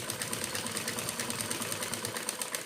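Sewing machine running steadily as it stitches a folded ribbon down onto fabric for a Laddu Gopal outfit, a continuous fast whirring hum that stays close and even throughout with no voices.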